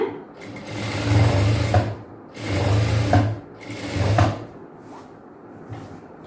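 A sewing machine stitching a chudidhar top runs in three steady bursts, each a few seconds long and separated by short pauses, close and fairly loud, with a faint clack of fabric handling between runs.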